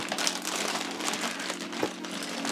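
Steady crinkling and rustling of plastic parts bags from a Hot Wheels Muscle Bound construction set being handled up close, with a few sharper crackles, no voices.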